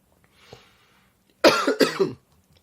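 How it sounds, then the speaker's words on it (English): A single adult cough, sharp and close, with a softer throat sound shortly before it and silence afterward. "You can see when I'm about to cough, I lose concentration."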